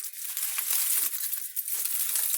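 A rested pork butt roast is unwrapped, with foil or paper crinkling and rustling continuously and close up for a couple of seconds.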